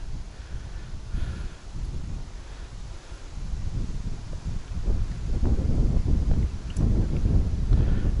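Gusty wind buffets the microphone with low rumbling, steady and strengthening toward the end, with faint rustling in the background.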